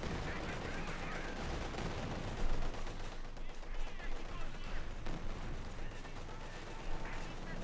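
Dense, continuous gunfire and explosions from the Company of Heroes 2 real-time strategy game, with a Panzer IV tank shooting. Volleys rattle steadily throughout, and a commentator talks over the battle.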